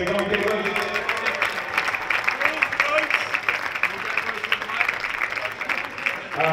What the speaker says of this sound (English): a little round of applause for Royce and the goalkeeper